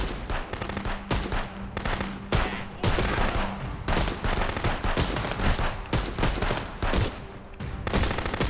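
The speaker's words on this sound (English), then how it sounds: "I'm shooting you in the high chest area. Gonna need you to go down." Rapid bursts of gunfire in the video game Wizard with a Gun, loud repeated volleys of shots in uneven clusters with brief gaps between them, no talking.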